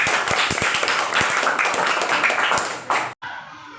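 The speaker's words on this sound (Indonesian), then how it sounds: "Oke, tepuk tangan untuk Mbak Minaya." A classroom of students clapping for a classmate, with quick, uneven hand claps close by under some talking, ending abruptly with a brief cut.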